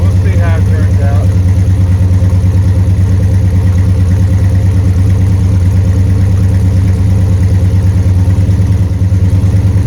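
A 1969 Dodge Super Bee with a 440 Six Pack V8, running rich, idles loud and close with a steady low rumble that holds throughout.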